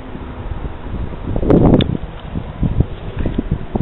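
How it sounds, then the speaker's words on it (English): Wind gusts buffet the microphone on a paddle boat out on the water, a steady rough rumble with a stronger surge in the middle, loud and close, with no talking. "The wind is carrying us where it pleases."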